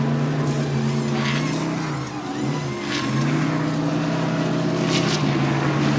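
NASCAR Winston Cup stock cars at The Winston in 1987 on pit road, a steady droning engine roar with shifting pitch as cars pass and rev, continuous and fairly loud.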